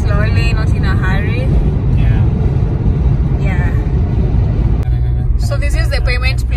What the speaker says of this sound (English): We're just driving slowly, not in a hurry.